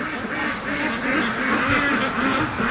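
Muscovy ducks on a free range duck farm make a dense, continuous chorus of calls against steady outdoor background noise.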